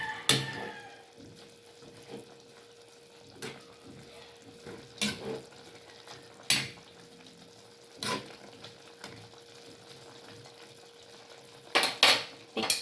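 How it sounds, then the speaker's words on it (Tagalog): A spoon scrapes and clanks against a pan every second or two while pork humba with eggplants simmers underneath, the sharp metallic knocks standing out over a quiet, low sizzle. "Ayan, haluin muna natin."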